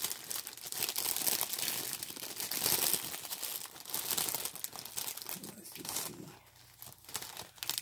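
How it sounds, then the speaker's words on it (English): Plastic packaging crinkling loudly and continuously as a diamond painting kit is unboxed, dense crackling and rustling close up with occasional tearing, easing off toward the end. "Sorry for the crinkling."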